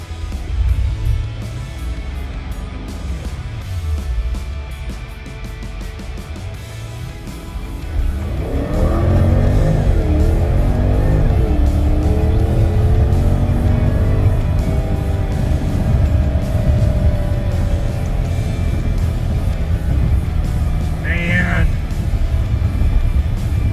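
A 2014 Porsche Panamera Turbo launches hard in Sport Plus with traction control off: the engine rises from a low idle rumble into a loud, climbing roar, heard from inside the cabin, with people talking throughout.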